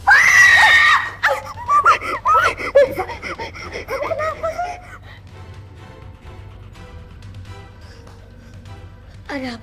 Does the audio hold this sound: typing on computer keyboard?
no